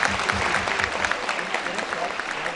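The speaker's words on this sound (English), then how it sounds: "Can we give them a big round of applause?" An audience at a school cultural day applauds in a continuous dense patter, with voices murmuring and calling beneath the clapping throughout.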